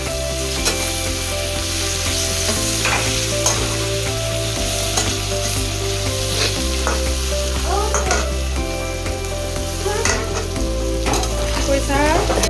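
Spices sizzle and crackle in hot oil in a pan while being stirred, with a steady close frying hiss broken by scraping and clinking strokes from the utensil.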